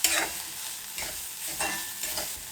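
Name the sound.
stirring chilli powder and garam masala in a pan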